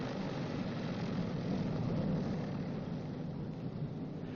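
Steady, loud drone of B-29 bomber radial piston engines idling on the ground during a magneto check, with the number 1 engine throttled back to 700 RPM, continuous and close with no talk.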